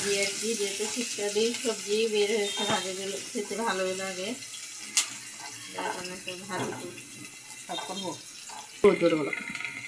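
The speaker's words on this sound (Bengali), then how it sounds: "ভালো করে নেড়ে চেড়ে নিচ্ছি আমরা এখানে।" Onions and chilies fry in a pan for a fish jhol, a quiet sizzle under a voice as she talks through most of it, with occasional scraping stirs and clinks.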